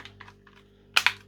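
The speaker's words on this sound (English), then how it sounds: "Hopefully it will click into place, which it seems" A plastic TV remote control casing snaps shut, with a few faint light taps followed by two sharp, close clicks in quick succession near the end.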